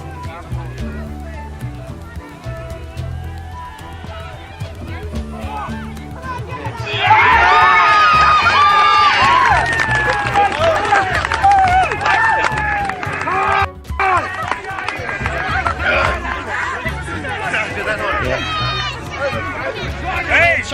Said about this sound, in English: the crowd are getting really wound up here on the sideline now